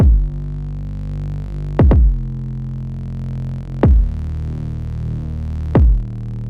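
Loud, deep sustained trap bass notes with harmonic saturation giving a gritty, buzzing overtone, each new note entering with a sharp downward-sweeping attack, four notes in total.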